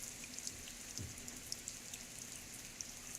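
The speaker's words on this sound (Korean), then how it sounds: "나뭇잎에 물방울이 떨어지는 소리와 개천에 물이 불어 좔좔 넘쳐흐르는 소리" Soft, scattered drips of water fall irregularly from leaves after a rain shower against a steady quiet background hiss, faint and close, with no voices.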